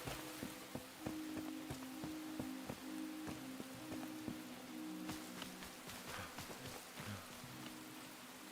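Rain patters in the game Enshrouded, with irregular drops ticking sharply against a surface over a steady soft wash and a low droning background tone, no talk.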